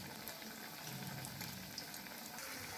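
Black urad dal vadai deep frying in hot oil, giving a steady, soft sizzle and bubbling hiss that runs unbroken throughout at low volume, with no talking.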